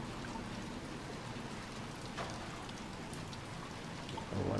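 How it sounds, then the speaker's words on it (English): Steady rain falling in the video game Little Nightmares 2, a dense continuous hiss of drops pattering on surfaces, even in level throughout with no voices over it. "Oh, I like the sound of that rain."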